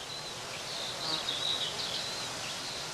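Bees buzzing around bramble blossom in a woodland on northern Lower Saxony heathland, a faint, steady hum with no other sounds.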